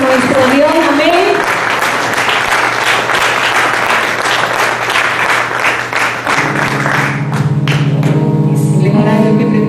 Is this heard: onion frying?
no